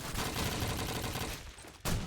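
Call of Duty 2 match audio with shotgun gunfire: dense, steady bursts of shooting and battle noise run throughout, and a louder blast lands near the end.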